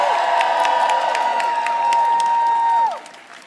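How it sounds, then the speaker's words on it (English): Crowd at a political rally applauds and cheers, loud sustained clapping mixed with shouts and whoops, a high sustained yell riding on top before the noise drops off sharply near the end. "Please give them another round of applause."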